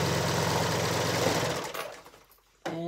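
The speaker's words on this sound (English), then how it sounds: "I am going to serge this center seam for a nice clean finish" A serger overlocking the center seam of a dress runs with a fast, steady mechanical whirr, close and loud, then slows and stops before a brief restart at the end.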